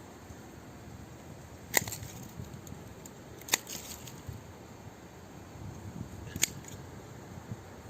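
Pruning shears snip through a Bell's honeysuckle stem during air-layering, giving three sharp, separate clicks spaced a couple of seconds apart over a quiet, steady background.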